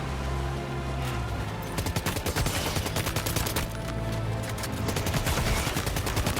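Sustained bursts of automatic gunfire in the Death Stranding 2 video game, loud and close, rattling in rapid repeated volleys with no talk over it.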